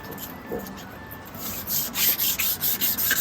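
A cloth rubs headlight polishing compound, after 4000-grit sanding, across the yellowed plastic headlight lens of an old Daihatsu Atrai Wagon Custom R. Close, raspy scrubbing strokes come in a quick repeated rhythm, growing stronger and more regular, with no talking.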